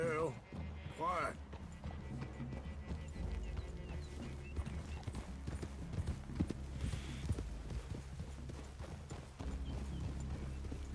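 Horses walking with steady hoof clip-clops in Red Dead Redemption 2, heard through the game's music and ambience while characters talk.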